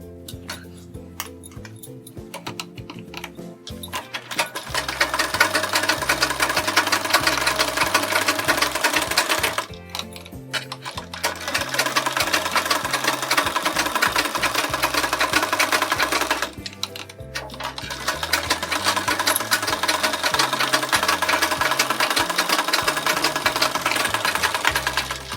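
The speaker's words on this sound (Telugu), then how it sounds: "ఇప్పుడు ఈ చుట్టూ కూడా ఒక స్టిచ్ వేసుకుంటూ రావాలి." A sewing machine runs in three long continuous bursts of stitching around a model sleeve on a trendy blouse, separated by brief pauses, close and steady with a rapid mechanical rhythm.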